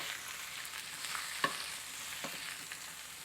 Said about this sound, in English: So we're just gonna, go ahead and cook this down for just a little bit.